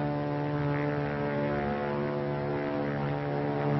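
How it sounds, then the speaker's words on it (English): A propeller aircraft drones steadily overhead in a World War II setting, a loud continuous engine hum with no speech. "It's a plane, all right."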